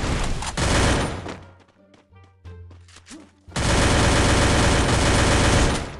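Loud, dense automatic gunfire in the Free Fire mobile battle royale game, with sustained bursts of shots, a brief lull of scattered single pops, then another long continuous volley.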